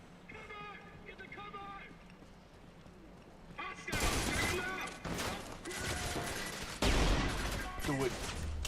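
Shotgun fire in the first-person shooter Trepang2 comes in loud, dense bursts over a busy game soundtrack, with a person talking throughout.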